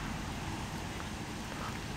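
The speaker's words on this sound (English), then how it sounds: "and now it's just raining." Steady rain falling outdoors at a railway station, a constant dense hiss of drops on surfaces, moderately loud and unbroken, with no voices.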